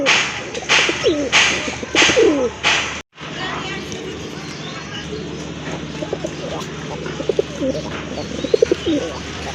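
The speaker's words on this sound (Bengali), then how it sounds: "খুবই চমৎকার একটা নর কবুতর। এটা কিন্তু লাল খাকি কবুতর।" Red khaki pigeons offered for sale coo repeatedly, soft rhythmic calls close by, with sharp bursts in the first few seconds, a brief dropout, then quieter cooing and chirps over a steady background hum.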